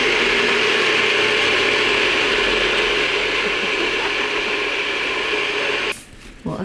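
A blender whirs loudly and steadily up close, mixing a pancake batter of oat milk, flaxseed and spelt flour with a continuous mechanical drone that cuts off shortly before the end.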